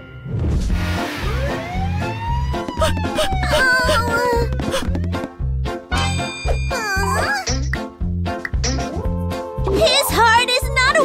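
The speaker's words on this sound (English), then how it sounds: "An ambulance will save him!" A wailing ambulance siren sweeps up and down over a steady rhythmic beat and music, loud and close throughout.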